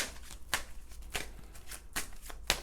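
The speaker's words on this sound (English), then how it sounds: "now I'm going to shuffle these cards" Tarot cards are shuffled in quiet, repeated riffling bursts about every half second, soft and close, with no talking.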